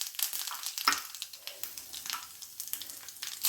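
Mustard seeds crackling and popping in hot oil in a pan while tempering peanut chutney, a steady close hiss with sharp scattered pops and no talking.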